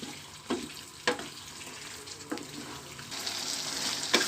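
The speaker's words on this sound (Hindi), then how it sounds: "5 मिनट तक अच्छे से भूनूंगी इसी तरह से ग्रेवी में।" Meat frying in gravy in a pan for arvi gosht, a steady soft sizzle with occasional sharp clinks and stirring scrapes.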